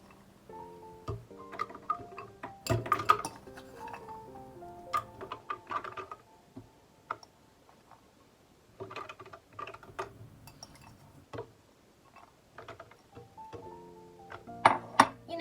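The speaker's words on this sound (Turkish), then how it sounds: "Kalan bademleri şimdi koyuyorum." Almonds dropped into a container in small bursts, hard nuts clicking and rattling against each other and the vessel with quiet gaps between pours, close and fairly soft.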